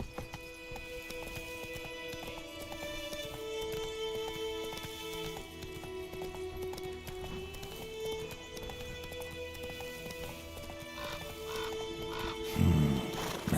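Roach, a horse in The Witcher 3: Wild Hunt, gallops with steady clip-clop hoofbeats under a sustained musical drone, with a brief whinny-like burst near the end.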